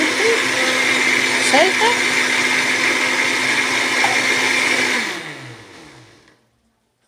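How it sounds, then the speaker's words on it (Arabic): A home blender churns cream into butter with a loud steady whir that winds down and stops near the end, while someone speaks briefly over it. "شايفه تجري ازاي في الخلاط؟"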